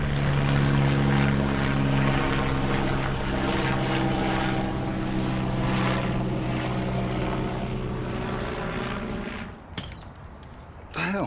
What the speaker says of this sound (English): there goes that chopper again